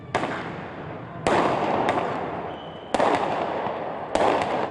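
Fireworks set off during a New Year's Eve riot in downtown Portland near the federal courthouse: four loud, close blasts, each trailing into sustained crackling.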